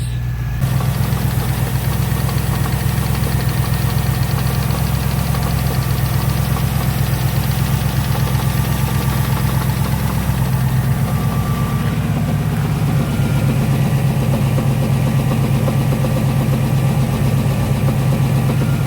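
A Ford Capri V8 engine idles steadily, with a deep, even rumble heard up close and no voices.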